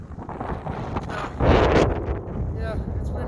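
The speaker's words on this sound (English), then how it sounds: "Yeah, it's windy." Strong wind buffeting the microphone on a narrow mountain ridge, loud gusty roar that swells midway and then eases, with a brief voice heard in the wind.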